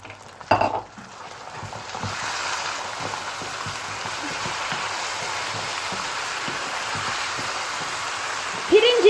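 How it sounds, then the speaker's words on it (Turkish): Rice poured into a pan of vermicelli being roasted for Turkish rice pilaf, giving a steady soft sizzle and scraping with light clinks of a utensil against the pan and a louder clatter at the start. "Şimdi de pirincimizi döküyoruz."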